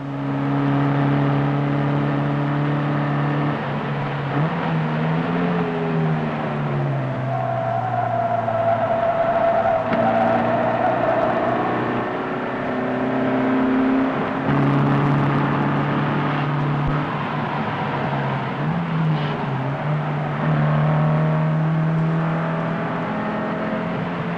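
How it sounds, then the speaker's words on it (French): A Lancia Stratos rally car at the 1975 Monte Carlo Rally holds a loud, sustained engine drone. Its pitch drops and climbs again through several gear changes as it accelerates, with no voices. "On enclenche la vitesse supérieure et c'est reparti."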